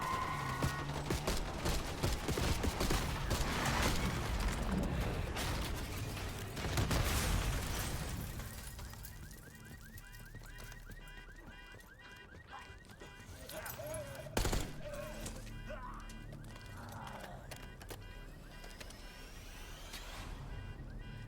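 In Call of Duty Black Ops 6, gunfire rattles in dense bursts and fusillades amid vehicle noise, heaviest early on, then thinning into scattered shots, with voices talking over parts of it.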